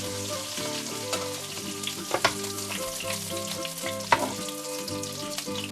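Rabbit pieces fry in a pan with a steady, dense sizzle and occasional crackling pops, close up, with a background tune and no talking.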